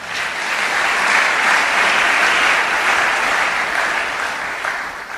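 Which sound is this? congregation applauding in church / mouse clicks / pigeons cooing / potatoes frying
congregation applauding in church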